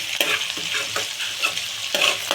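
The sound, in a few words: onions frying golden for dried prawn curry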